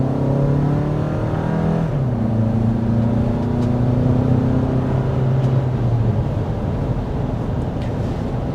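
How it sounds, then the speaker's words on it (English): A 2024 Toyota RAV4 engine revs up steadily from inside the cabin, its pitch rising then dropping as the automatic transmission shifts, followed by a continued climb. "as you can probably hear as I accelerate, this does also have a traditional automatic transmission"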